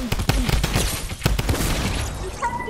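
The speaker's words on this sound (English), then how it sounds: "why is everybody shooting at me?" Gunfire in Fortnite: a rapid string of sharp shots and impacts in the first half, fairly loud and close, fading toward a quieter tail with a brief tonal game sound at the end.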